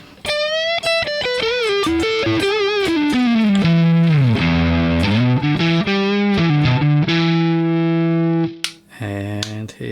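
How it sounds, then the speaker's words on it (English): Distorted electric guitar, an Epiphone Les Paul Plus Top Pro in single-coil mode, playing a bending, sliding lead line with thick sustained notes, loud and close, cutting off abruptly near the end. "And here's the next single coil with distortion."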